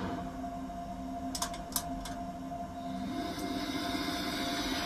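Historic S-Bahn electric train on the S25 line to Hennigsdorf in Train Simulator pulling away, a steady motor hum rising in pitch as it gathers speed, with a few brief clicks and clanks near the start and no talking.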